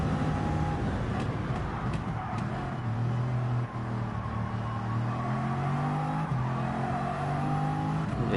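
Bugatti race car engine roaring steadily in Gran Turismo 7 at the St. Croix circuit, a continuous loud drone with rising and falling pitch as it accelerates through gears, alone without speech.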